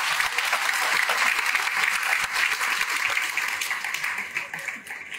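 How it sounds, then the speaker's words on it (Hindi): A conference audience gives a full round of applause for the institute's management, dense clapping that holds steady before thinning out near the end. "मैं आप सबसे रिक्वेस्ट करूंगा कि एक जोरदार तालियों से अभिनंदन करें इस मैनेजमेंट का।"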